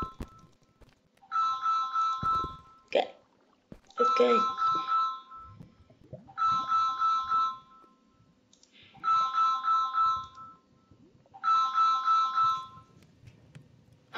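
Phone ringtone going off during Minecraft play on PC: a repeating electronic melody in four or five bursts with short gaps, fairly close, while a person speaks briefly in between.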